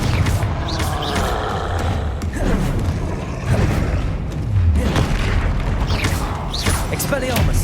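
Repeated Confringo fire-spell explosions in the game Hogwarts Legacy land as a string of deep, booming blasts with crackling and whooshing tails, amid busy combat noise and occasional shouted voices.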